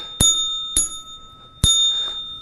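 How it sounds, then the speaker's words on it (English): Three crisp rings of a small bicycle-style bell, close and loud, each a bright metallic ding with a lingering ring, the last two spaced further apart; no talking. "the behavior was that I rang the bell."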